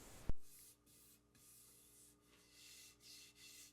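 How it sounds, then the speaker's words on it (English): A handmade six-string multi-scale guitar neck being sanded with 320 and 400 grit sandpaper: a soft, steady back-and-forth rubbing hiss in long strokes, close and quiet, after one sharp knock near the start. "Then I'll go back and hit it with 320 and then 400 grit sandpaper"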